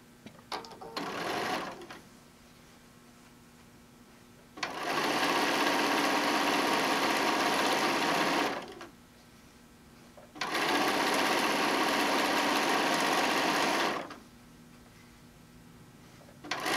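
A sewing machine stitches fabric strips together for a whale-pattern quilt, running in two long, steady bursts of several seconds each, separated by quiet pauses and close by.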